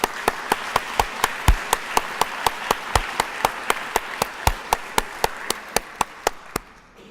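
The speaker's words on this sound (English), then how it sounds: "Give yourself a round of applause." At an awards ceremony, an audience claps in a steady, even rhythm, each sharp clap distinct and close, the beat keeping up for several seconds before gradually softening toward the end.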